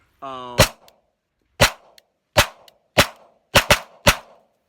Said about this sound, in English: It seems to be liking the Freedom Munitions hollow point, the 200 grain ones.